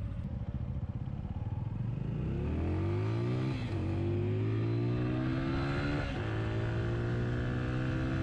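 A TVS Apache RTR 200 4V BS6 motorcycle engine climbs steadily in pitch while being ridden, with two gear shifts that briefly drop the note before it rises again. The drone is close, continuous and has no talk over it.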